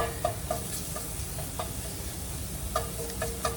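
Frozen pork chops fry in a hot pan with a constant hissing sizzle, broken by scattered small pops and spatters.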